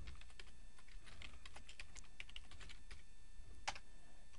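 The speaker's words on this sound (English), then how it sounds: "Now I can type" Fast, steady typing on a computer keyboard, with light clicking keystrokes in a dense, even patter and an occasional sharper key tap, heard close up and quiet with no voices.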